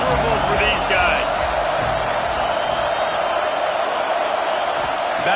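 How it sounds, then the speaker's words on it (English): A basketball arena crowd roars loudly and continuously, with whoops and cheers rising through a dense wall of noise and a commentator talking over it. "These fans are going absolutely nuts."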